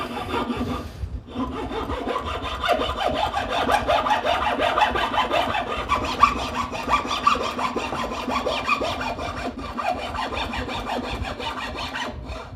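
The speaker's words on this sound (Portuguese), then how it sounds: "Eu vou fazer esse corte com o arco para que você veja." A bow saw cuts through wood in steady, rapid back-and-forth strokes, rasping continuously and close for several seconds.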